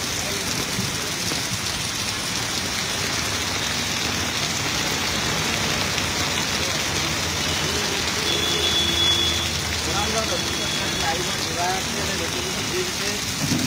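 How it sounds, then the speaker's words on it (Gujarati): Heavy night rain pours over Vadodara city streets, a constant broad wash of falling water with a vehicle engine idling faintly beneath and a voice talking over it. "વરસાદ વરસી રહ્યો છે."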